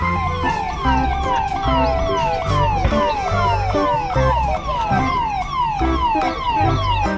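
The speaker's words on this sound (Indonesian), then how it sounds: "Ada mobil ambulan." A toy ambulance's electronic siren wails in a steady, repeating up-and-down pattern, loud and close, running the whole time with no talk over it.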